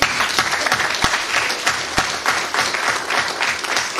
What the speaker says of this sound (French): est-ce que vous pouvez acclamer ce Jésus?